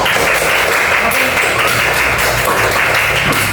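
Students in a classroom clap for a presenting group, a steady patter of many hands close and fairly loud, with a few thumps and taps mixed in throughout.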